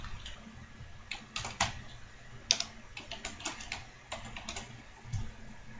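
Typing on a computer keyboard, a quiet irregular patter of key clicks with a few sharper louder taps, all close and alone.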